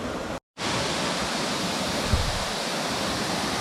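Sgwd Einion Gam, a high waterfall on the Elidir Trail in Waterfall Country, Wales, roars with a constant, close rushing wash of water, broken only by a brief gap near the start.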